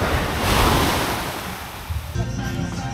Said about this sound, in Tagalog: Tapos itong naririnig nyo, ito na yung dagat.